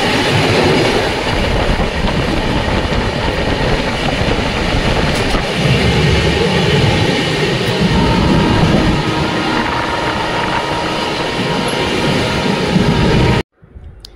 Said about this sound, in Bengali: দেখতে পাচ্ছ ট্রেনে কি প্রচণ্ড নয়েজ হচ্ছিল